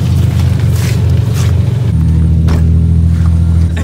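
A Toyota Supra held at redline while ice drifting in Sweden, its engine a loud, sustained droning roar that shifts pitch slightly midway, close-up and continuous with no pause.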